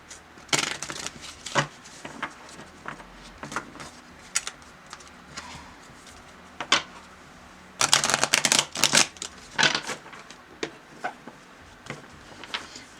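Tarot cards shuffled by hand in bursts of crisp riffling and soft slaps, with short pauses between rounds and a denser, louder flurry of shuffling toward the end.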